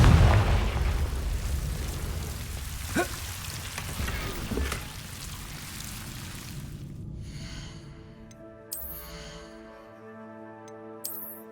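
A Confringo spell in the Hogwarts Legacy video game bursts with a few sharp explosive cracks over a rumbling wash, decaying away before soft tonal game music and chimes take over.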